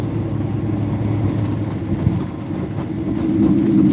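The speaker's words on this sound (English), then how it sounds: "See, look, we even get trains." A train rolls past near a river bridge, a steady low rumble that holds throughout at close range and swells slightly toward the end, with no voices.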